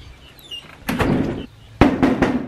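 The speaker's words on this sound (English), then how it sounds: "knock, knock" Knocking on a door, a loud burst of sharp wooden raps in two quick groups, close and clear with no talk over it.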